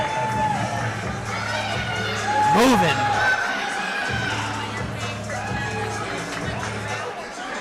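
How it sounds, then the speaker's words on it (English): A crowd cheers for an athlete at a fitness competition, the Invictus Boston Invitational, a loud sustained roar with a brief swell in the middle, heard under a commentator talking. "He's getting the cheers from the crowd here, too."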